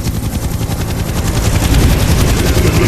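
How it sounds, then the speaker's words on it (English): Helicopter rotors thump in a fast, steady pulse overhead near the Egyptian pyramids, loud and continuous with a deep low rumble throughout. "Zahe, do you hear some helicopters?"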